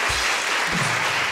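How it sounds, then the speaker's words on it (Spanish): A studio audience breaks into steady, dense applause during a talk-show interview, filling the short moment with continuous clapping and no voices on top. "Un aplauso para ella."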